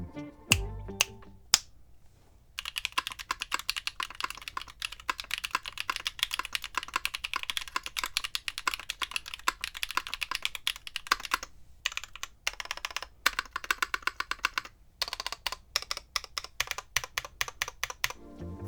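KNC Keys Green Jacket linear switches on a keyboard are typed in steady rapid bursts of close, crisp clacks, with a few louder single keystrokes at the start and brief pauses between runs, with no talking.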